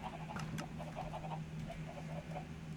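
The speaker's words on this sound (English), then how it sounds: "you can hear them laying eggs, and you can hear that lava popping already" Minecraft chickens in a farm laying eggs, with lava nearby, make short, soft clucking bursts at a quiet level over a low steady hum.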